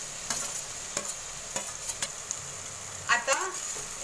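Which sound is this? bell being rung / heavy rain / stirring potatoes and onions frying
stirring potatoes and onions frying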